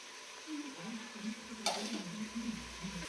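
Tomatoes with mint and coriander being stirred as they fry in a pan: a soft steady sizzle with light scraping strokes of the spoon and one sharp metallic clink near the middle, faint voices murmuring underneath.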